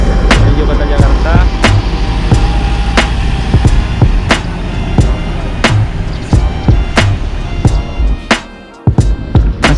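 A P20 Ambassador bus pulls away toward Jakarta near Padang Panjang, its engine rumbling loudly and steadily close by, with sharp clicks and knocks repeating over the drone and a brief drop in noise near the end.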